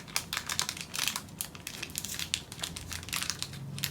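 Crinkly plastic wrappers of Count Chocula and Boo Berry mini cereal treats being cut open and handled, a steady run of close, dry crackling and rustling bursts with no talking.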